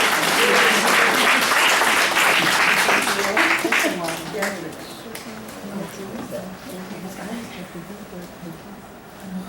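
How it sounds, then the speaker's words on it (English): Audience at a general meeting applauds, a dense burst of clapping that fades over several seconds, followed by quieter room sounds and faint talk. "if we can have a round of applause"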